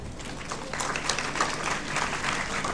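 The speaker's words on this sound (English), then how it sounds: "please welcome with applause the following faculty members" Applause from an audience at a medical college White Coat Ceremony in Aligarh as faculty members are welcomed, a steady wash of many hands clapping at moderate distance without pause.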